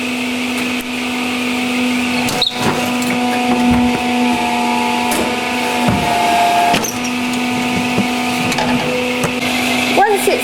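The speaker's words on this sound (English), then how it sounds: "Once your puzzle is dried nicely, it's put onto our cutting machine." A jigsaw puzzle cutting machine in a UK puzzle workshop runs with a steady mechanical hum and whine, punctuated by sharp periodic thumps and clacks, with people talking over it.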